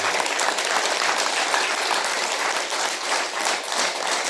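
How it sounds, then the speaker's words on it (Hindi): Sustained applause rolls through a big seated congregation at a Pune healing gathering, many hands clapping together in a thick, even burst that holds throughout. "खुशबू जी के स्वागत में ताली मारो"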